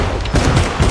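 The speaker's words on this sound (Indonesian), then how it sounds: "Cash berpapasan dengan Biket hingga terjadi lagi aksi baku tembak." Rapid bursts of gunfire in an action film shootout, a dense, loud fusillade of shots.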